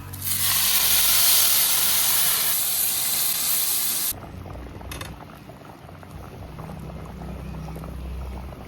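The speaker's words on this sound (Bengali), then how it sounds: "এখন দিয়ে দেবো পরিমাণ মতো জল" Water is poured into a hot pan of fried spices and taro, setting off a loud, bright hissing sizzle that drops abruptly to a softer, steady bubbling simmer nearby.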